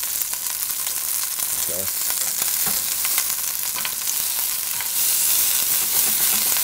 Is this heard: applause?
no